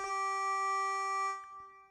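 A looped clavichord sample played from a keyboard in Logic's Quick Sampler with no effects, giving a bright, steady buzzy tone with stacked harmonics that holds for over a second and then cuts off, with no talk.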